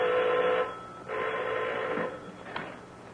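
A telephone rings in two long bursts with a short gap between them, fairly loud and close, followed by a brief click, with no talking.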